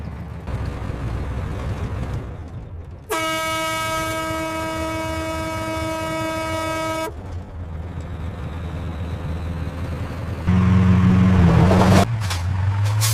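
A long, loud, sustained vehicle horn blares over road noise during a roadside encounter with a police officer, holding for about four seconds, followed later by a second lower, shorter honk.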